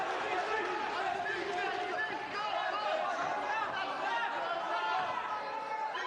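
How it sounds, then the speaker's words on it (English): A crowd roars and chants at a Cage Warriors featherweight championship cage fight, a loud, dense and unbroken wall of voices lasting the whole stretch. "it is an answer to the SBG chants from the crowd."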